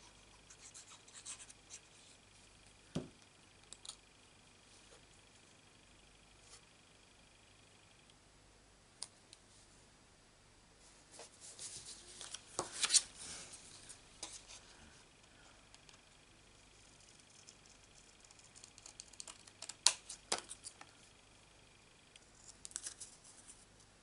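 Scissors snip around a stamped tulip paper piece for a Stampin' Up card, giving faint, sparse cuts with small clicks and clusters of snips near the middle and end, heard alone at close range.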